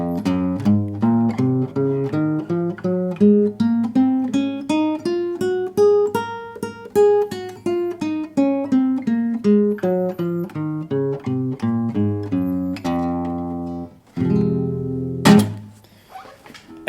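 Plucked guitar notes of the Phrygian mode scale climb steadily up and then descend, each note ringing clearly one after another, followed by a final strummed chord.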